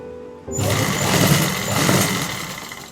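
A sewing machine stitches a trouser pocket, starting abruptly after a quiet moment and then running as a steady, loud, close motor whir with a dense rattle, with no voices.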